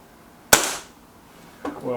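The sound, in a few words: sub-12 ft-lb air rifle firing a pellet at target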